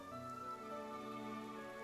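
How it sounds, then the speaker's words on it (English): Rain falls steadily in the Genshin Impact video game, a faint, even patter beneath soft sustained tonal music. "Yet today, the downpour arrived on schedule."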